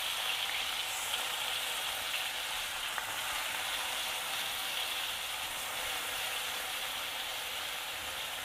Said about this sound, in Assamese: আগতে মাংসখিনি আমি ভালদৰে ভাজি ল'ম তেলতে।